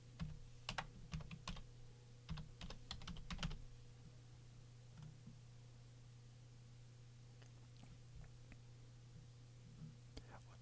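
Soft clicking keystrokes on a computer keyboard come in a quick cluster over the first few seconds, then only scattered taps follow against a steady low electrical hum.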